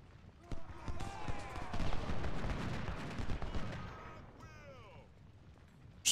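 Volleys of musket fire in the Civil War strategy game Ultimate General: Civil War, a dense rolling crackle of many shots with a voice talking over it, thinning out toward the end.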